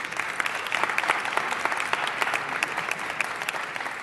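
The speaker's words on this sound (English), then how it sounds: "Let's give them one more round of applause." Sustained audience applause at a city council meeting honoring a service organization, dense steady clapping from a roomful of people throughout, with no speech over it.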